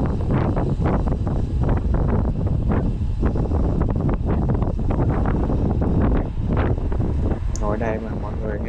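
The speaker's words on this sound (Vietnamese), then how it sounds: "Tiếng gió" Strong, gusty wind buffets the microphone near the sea at Cà Ná, Ninh Thuận, beside an R1200GS motorcycle, a loud continuous roar with rough surges throughout.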